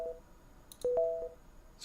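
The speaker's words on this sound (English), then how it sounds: "it's got that little reverb ding-a-ling thing." Brief synthesized energy effect for a sci-fi video game, a short tonal chime with a ringing reverb ding-a-ling tail, clear and alone over low background hiss.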